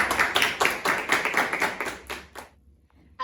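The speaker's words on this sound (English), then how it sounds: "Let's give our new members a round of applause" A short burst of clapping from the crowd at a Sierra FFA awards banquet. It is brisk and fairly close, then thins out and stops after about two and a half seconds, leaving near silence.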